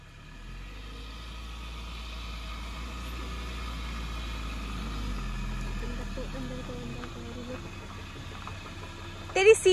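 A car engine holds a steady low rumble throughout a test drive, rising slightly in the middle, with faint voices and a brief clatter near the end.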